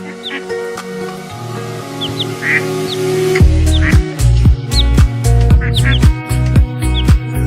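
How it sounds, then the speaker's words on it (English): Cartoonish quacks and high chirps repeat over a bouncy musical backing, the calls coming in quick, irregular bursts that grow busier partway through. "the duck he shared with roommate Joey, complete with their characteristic quacking and chirping"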